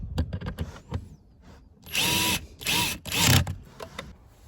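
Power drill or driver tightening bolts while fitting a cabin air filter in a Mercedes E300 W212, three close whirring bursts of about a second each, with softer clicks and handling noises between them, no talk.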